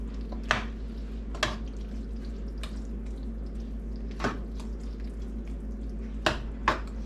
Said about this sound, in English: I'm gonna go ahead and dump the rest in this pan. A little bit at a time and stir it on up.